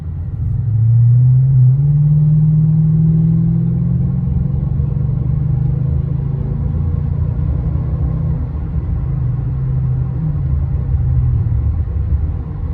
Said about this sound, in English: this car pulls really good for a big car